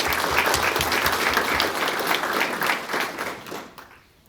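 An audience applauding at a workforce award breakfast, a dense, sustained round of clapping that rings out and then fades away toward the end.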